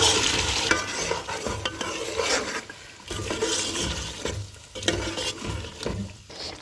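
Alpers cream is stirred into a white karahi in a pan. Wet, bubbling sizzle is worked by vigorous spoon strokes that scrape and slosh, easing briefly midway. Heard close up, with no talking.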